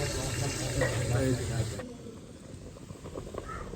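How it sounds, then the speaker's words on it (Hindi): A pot of water at a rolling boil on a kitchen stove, waiting for rice: a steady close hiss and bubbling that eases off about halfway through, with voices in the background. "पानी बॉयल हो चुका है।"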